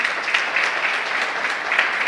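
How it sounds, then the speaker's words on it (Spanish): A church congregation claps loudly and steadily throughout a worship service, dense applause filling the room with no talk over it. "Dale un aplauso fuerte al Señor."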